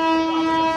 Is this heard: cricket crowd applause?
no